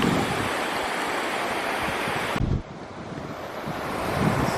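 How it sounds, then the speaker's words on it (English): Soft waves wash in continuously with a breezy rush, a gentle steady surf that dips briefly midway, no voices. "This is a really gentle roll of waves."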